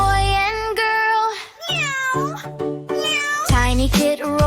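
Cat meowing in a children's nursery rhyme song, several clear, close, loud meows with rising and falling pitch in quick succession and no talking.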